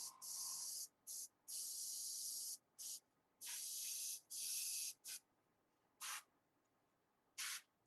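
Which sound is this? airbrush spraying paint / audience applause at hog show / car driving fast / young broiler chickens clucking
airbrush spraying paint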